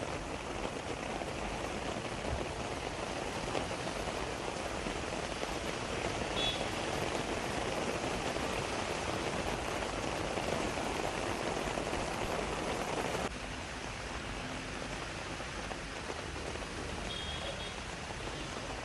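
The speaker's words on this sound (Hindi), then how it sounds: "ये तीन तस्वीरें आपके सामने अकबर रोड, इंडिया गेट और गुरुग्राम की, जहां पर इस वक्त बारिश हो रही है।" Monsoon rain falls over Delhi-NCR streets such as Akbar Road, India Gate and Gurugram, a dense, steady hiss of downpour that stays even and unbroken throughout with no voices.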